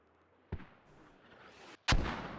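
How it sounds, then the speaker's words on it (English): Mortar volleys in a competitive video game match strike a capture zone, two sharp explosive impacts with a faint whistling rise between them. "waiting for the mortars to hit into that cap zone over here"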